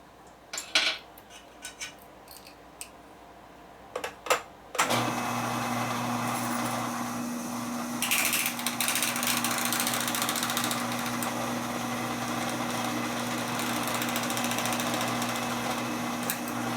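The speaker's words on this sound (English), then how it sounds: "abuse it on the drill press over here and see what happens" A drill press hones a 1972 Harley-Davidson XL Sportster 1000cc Ironhead cylinder, starting with a few sharp metallic clinks and taps, then a loud, steady whirring grind with a rising scrape partway through.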